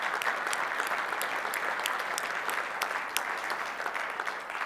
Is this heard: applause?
yes